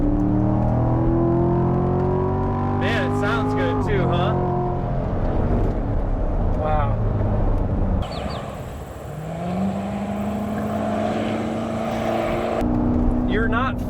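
A Chevrolet Corvette C7 Grand Sport in sport mode accelerates hard, its engine note rising through the revs, dropping at a gear change and climbing again, loud and close from inside the car with a voice talking over it.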